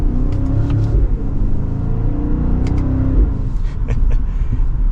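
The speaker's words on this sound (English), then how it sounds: "you can hear just a little bit of gurgles and pops on the overrun of the engine" A 2024 BMW X5 M60i engine rumbles on the overrun during a drive, with a low, steady drone broken by faint gurgles and small pops, heard from inside the car.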